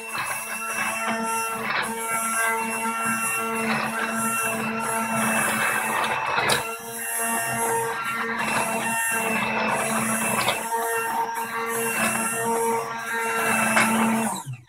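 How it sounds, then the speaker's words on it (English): A blender whirs steadily, blending garlic into a smooth sauce, with a loud continuous motor drone and a few brief dips in speed. "what I'm going to do now is just blend it, make a nice smooth sauce"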